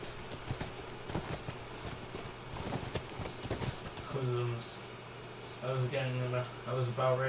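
Quick horse hoofbeats in The Last of Us clatter nearby for several seconds, then fade as a person starts talking.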